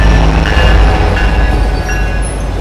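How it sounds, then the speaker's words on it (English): A Roblox MBTA F40PH-3C commuter rail diesel locomotive arrives at Sharon Station with a loud, steady low rumble, rolling wheel noise and faint squealing tones, with no talking. "Train approaching, please remain behind yellow line."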